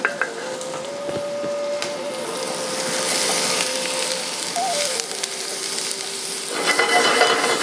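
Sausage and zucchini sizzle steadily in a hot pan, a continuous broadband hiss with occasional stirring clatter, close and moderately loud throughout, while a faint tone hums in the background.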